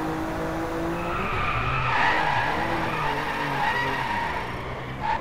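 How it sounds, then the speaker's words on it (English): A BMW M4 drifting in the DriveClub racing game: sustained loud tire squeal over a droning engine, the screech wavering in pitch for several seconds without a break. "That was a good drift, though."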